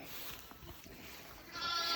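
Newborn purebred Dorset lambs bleat faintly in a barn during lambing time, with a short wavering cry rising over quiet background noise.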